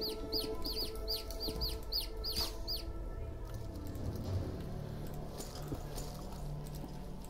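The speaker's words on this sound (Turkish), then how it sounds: "Oğlum her yer tavuk lan." Chickens cluck in the Niffelheim video game, a quick run of repeated clucks for about three seconds before the sound gives way to a low, steady game ambience.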